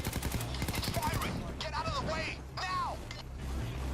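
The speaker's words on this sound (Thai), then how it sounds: "มันยิงเข้ามันยิงเข้ามาอีกแล้ว" Enemies in Payday 2 shooting a rapid burst of gunfire during the first second, then a steady din with voices talking over it.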